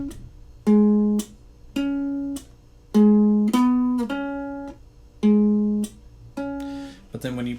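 Ukulele walking bass line picked on the lower strings for Poor Wayfaring Stranger: single plucked notes at a slow, steady pace, each ringing briefly before the next, close and clear with no voice over them.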